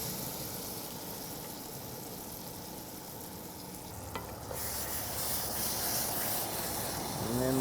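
Pumpkin butter hits hot brown butter in a pan and the steady frying sizzle swells louder and brighter, a close continuous hiss with faint stirring.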